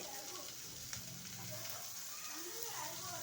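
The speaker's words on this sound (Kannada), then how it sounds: "ಇದನ್ನು ಸ್ವಲ್ಪ ಫ್ರೈ ಮಾಡ್ಕೊಳ್ಳಿ ಹಸಿ ವಾಸನೆ ಹೋಗೋವರೆಗೂ ಸ್ವಲ್ಪ ಫ್ರೈ ಮಾಡ್ಕೊಳ್ಳಿ" Onion with ginger garlic paste frying in a pan for baby corn manchurian, a steady soft sizzle with faint stirring scrapes, fairly quiet and continuous throughout.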